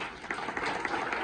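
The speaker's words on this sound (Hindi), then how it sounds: "ये 2 बहनों को लिए भी तालियां बजा दीजिए।" An audience at a Sahaja Yoga meditation centre in Hisar breaks into brief, dense applause for two guests, a short close burst of clapping.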